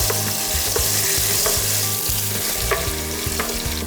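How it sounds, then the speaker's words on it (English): Onion paste fries in hot oil in a preheated pan, a loud, steady, close sizzle with stirring scrapes throughout. "The paste hits the oil"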